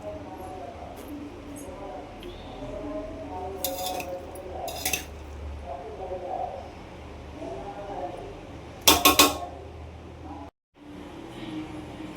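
A spoon stirs finished mutton biryani in a metal pot, giving soft scraping and a few sharp clinks against the rim, while someone talks over it.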